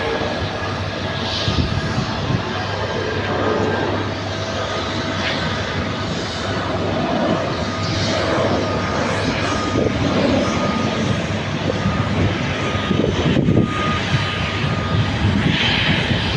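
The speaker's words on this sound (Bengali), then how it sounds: "বিস্তারা এয়ারলাইন্স বিমানটি এখনই আকাশে উঠবে" A Vistara Airlines airliner's engines roar loud and steady as it accelerates down the runway for takeoff, a broad continuous rush that holds strong throughout, with faint talking underneath.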